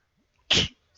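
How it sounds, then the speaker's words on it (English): A single sharp sneeze, abrupt and close, bursting out of near silence and over within a fraction of a second. "I'm gonna sneeze."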